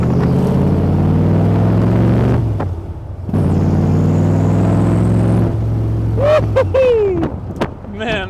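A 1965 Shelby Cobra tribute car accelerating, a loud close engine drone that climbs in pitch through the gears with a shift gap, then revs and whines over faint wind and road noise.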